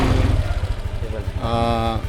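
A motorcycle that had not run for a long time idles right after being repaired, with a close, steady, rapid low chugging. A voice briefly sounds over it near the end.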